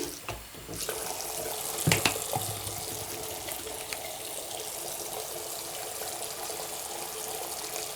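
Tap water runs steadily into a sink as hair extensions are rinsed after shampooing, a constant hissing flow with a brief splashy bump early on.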